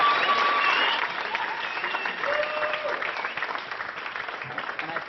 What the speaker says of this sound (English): So you guys just give a huge round of applause.